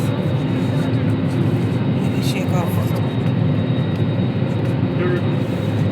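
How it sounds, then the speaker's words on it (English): Steady, loud roar inside the cabin of an AirAsia Airbus A321 as it comes in to land, a continuous engine and airflow drone with no breaks, and faint voices beneath it. "It's landing, guys."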